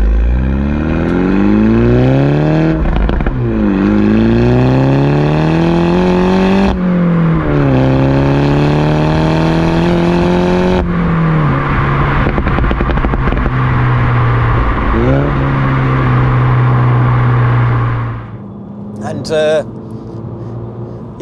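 A Mini Cooper S JCW F56 with a Stage 2 tune revs and accelerates hard through repeated gear changes, its engine note climbing and dropping, loud from inside the cabin, then easing off near the end.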